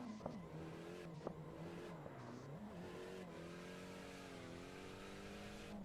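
BMW drift car with an SR engine, revving hard and holding a loud, continuous rasping drone with pitch swings as the throttle shifts, close and alone.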